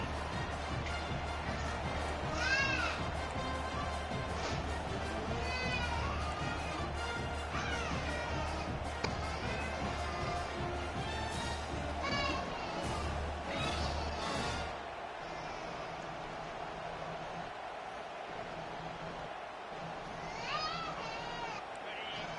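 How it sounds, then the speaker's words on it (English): A stadium crowd at an American football game roars steadily through the whole stretch, a loud, dense wash of cheering with voices rising and falling and an announcer talking over it. "This crowd bringing an ear-splitting welcome to their visitors"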